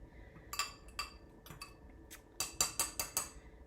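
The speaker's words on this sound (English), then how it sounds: "I'm gonna mix it a little bit" A utensil stirs a vinegar and baking soda mixture in a glass, giving faint, irregular clinks and taps, a few sparse at first, then a quicker cluster of louder clinks toward the end.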